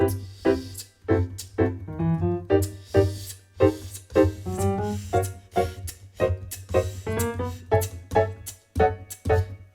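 Rich extended thirteenth and ninth jazz chords played in a steady sequence of separate stabs, each struck and left to ring briefly, with no voices.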